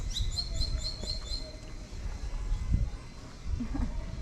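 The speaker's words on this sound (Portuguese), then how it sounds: "Esse passarinho que tá cantando" A small bird sings in a village near the Colombia–Panama border in Darién, with quick repeated high chirps at the start, then fainter calls over low rumbling background.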